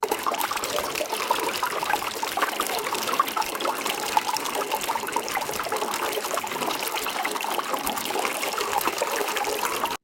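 AI-generated water from Stable Audio Open, a continuous, loud, dense trickling and streaming flow, steady throughout with no talk.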